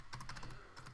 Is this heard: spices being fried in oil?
no